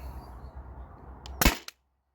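A modified Byrna TCR less-lethal launcher fires a single sharp, loud pop up close, followed by a brief click, after a low steady outdoor rumble that then drops to silence.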